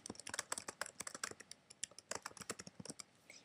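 Fingers type on a computer keyboard in rapid, irregular bursts of crisp clicks, close and clear with no voices over them.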